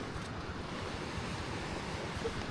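The Aklan River rushes through remote mountains, a dense, steady roar of flowing water with wind buffeting the microphone and no talking.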